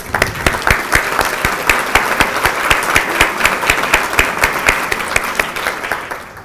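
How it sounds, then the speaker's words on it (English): An audience at a charity breakfast event applauds steadily, a dense wash of clapping with a few distinct sharp claps standing out, tapering slightly at the end. "please give yourselves a round of applause"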